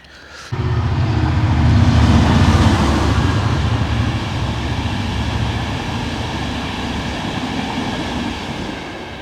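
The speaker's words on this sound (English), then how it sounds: "And there goes the big train, all the way from Manchester to Cardiff, or Holyhead to Cardiff." A train on the Manchester to Cardiff line roars past, starting abruptly and staying loud and steady for several seconds with a rumbling, rushing wash of wheel and rail noise, no talk over it.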